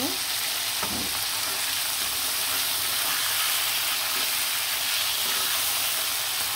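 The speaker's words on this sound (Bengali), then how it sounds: "সুন্দর করে কিন্তু মাংসগুলো আমি লাল লাল করে ভেজে নিলাম" Chicken pieces fry in a pan with a steady, even sizzle and hiss throughout, close and continuous, with faint stirring knocks and no talk.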